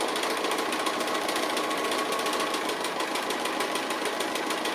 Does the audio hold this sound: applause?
no